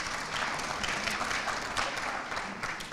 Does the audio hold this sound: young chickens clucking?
no